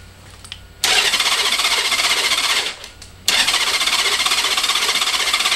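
A 1995 Honda GL1500 Gold Wing motorcycle engine cranks and roars to life loudly, cuts out briefly, then catches again and keeps running at a steady, close rumble.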